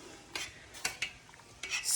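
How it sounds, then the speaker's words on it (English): Spoon stirring noodles in a cooking pot, giving a few scattered scrapes and clinks against the metal over a faint background hiss, close by. "I'm stirring the noodles right now."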